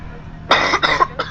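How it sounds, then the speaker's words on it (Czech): A person coughs loudly and close up, three short harsh bursts in quick succession, with no speech during the coughs. "Já mám kašel."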